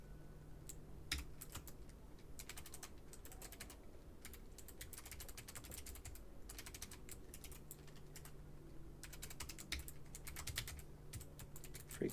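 Steady computer keyboard typing while code is written in Python, a dense run of quiet key clicks continuing alone throughout with a faint constant hum beneath.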